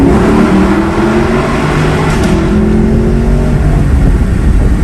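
A 2018 Lexus LC500 V8 accelerates hard through its gears, heard loud and close from inside the car as the engine note climbs repeatedly in rising sweeps.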